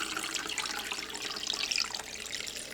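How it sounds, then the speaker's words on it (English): Water pours from a Brita pitcher into a cold brew container, a steady close splashing trickle that continues without a break for about three seconds, with no voices. "I have my Brita pitcher, so we're going to pour that in there"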